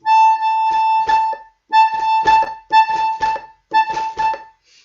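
Bursts of accordion tone with rapid bouncing bellows strokes, a bellows ricochet on four, played in several short repeated phrases separated by brief pauses.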